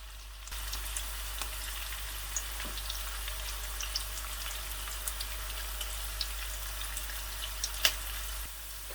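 Sliced onions frying on low heat in a pan until lightly browning, giving a soft, steady sizzle with small scattered pops and crackles and a low constant hum underneath, with no talking.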